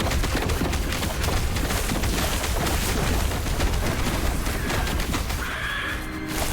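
Cold vine turrets of a Spriggan-form druid fire nonstop in Last Epoch, a dense, loud barrage of overlapping impacts and crackles that runs throughout, easing slightly near the end.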